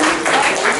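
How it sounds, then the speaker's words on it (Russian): Audience clapping at a New Year literary evening in the Bulgakov House, a dense, steady patter of many hands held close and loud throughout the short moment. "давайте похлопаем"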